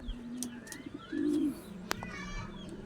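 Racing pigeons returning home from a training flight at morning, with soft cooing and brief wing flutters nearby, a sharp clap or snap, and faint chirps in an outdoor setting.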